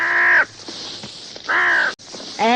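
A giant eagle screeches loudly in a radio drama: three harsh, nasal cries of about half a second each, separated by brief gaps, close and alone over faint background noise.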